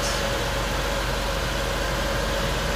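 A 2009 Chevy Impala's 3.5 liter V6 idles steadily with the hood open, a constant low hum under a broad hiss, with no voices over it.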